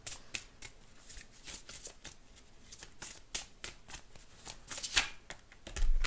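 Oracle cards shuffled for a reading, a dense run of crisp riffling bursts repeating at a steady pace, close and clear with no voices.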